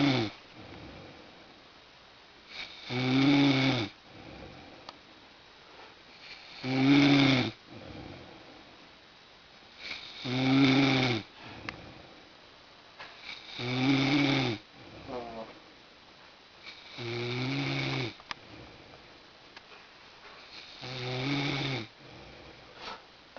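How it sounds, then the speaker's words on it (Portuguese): A pig snores slowly and steadily, with about six loud, rasping inhales spaced a few seconds apart and quieter breathing between them, close up and with no other sound. "O suíno ainda não parou de roncar"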